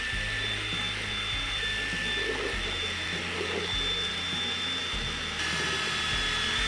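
Mixer running steadily to blend Celsius and Certainty weed herbicide before it goes into a sprayer for a Bermuda grass lawn: a continuous loud motor drone with a low hum, alone and unbroken.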